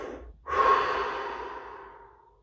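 After a brief pause, a person draws one long, loud, close breath that gradually fades away.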